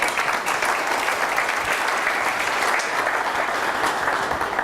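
A crowd applauds steadily, a dense even wash of clapping that holds at full strength throughout without fading.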